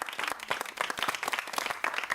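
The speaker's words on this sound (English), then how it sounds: "Give the man a round of applause." Short burst of applause from a classroom audience during a lesson on probability, with dense, irregular hand claps filling the moment at moderate loudness and no speech over it.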